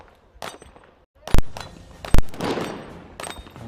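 Several sharp rifle shots ring out at a Texas Star steel target during a SWAT team sniper stage, two loud cracks standing out among quieter pops and clinks, spaced irregularly with no talk.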